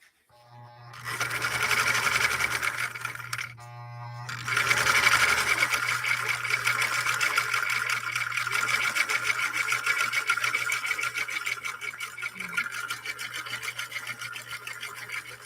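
A 1958 Husqvarna Viking Type 21 sewing machine stitching steadily, its motor humming with a fast, even mechanical chatter that runs continuously after a brief pause near the start, close and clear with no talking.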